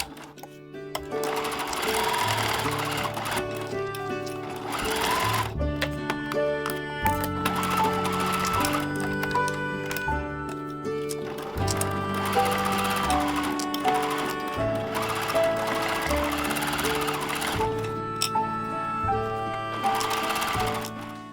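A sewing machine stitching fabric scraps into children's clothing with a coarse basting stitch, loud rapid mechanical whirring in several bursts separated by short pauses, close and alone.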